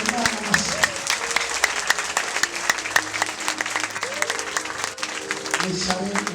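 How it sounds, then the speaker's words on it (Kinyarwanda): A church congregation at a Friday prayer gathering breaks into sustained, lively applause, rhythmic clapping filling the room while a voice speaks over it and a keyboard plays softly beneath. "Komera Imana amashyi."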